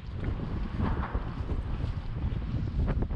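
High wind blasts across a fishing boat at sea off New Jersey, a heavy, continuous buffeting roar that batters the microphone with gusty surges.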